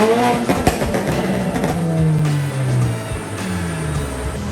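A tuned 1500cc Mazda 2 Skyactiv engine on a dyno winds down from a high rev, its pitch sliding steadily lower into a steady hum, heard up close and moderately loud with no talk.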